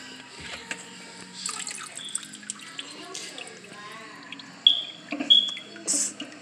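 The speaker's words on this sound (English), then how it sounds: "The chicken is nice and clean, and I drain all the water out." Water trickles and drips from freshly washed raw chicken draining in a kitchen sink, with scattered soft splashes and a few sharper drips near the end, close and fairly quiet.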